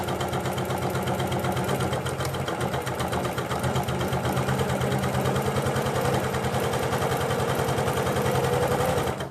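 A sewing machine zigzag-stitches near the edge of fabric while making a doll's dress, running steadily with a fast, even mechanical clatter that stays loud and close throughout.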